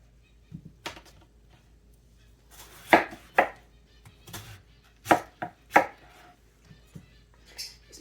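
A Cutco knife chops cabbage on a cutting board in sharp, irregular knocks, clustered and spaced apart, with quiet pauses between strikes and no talking.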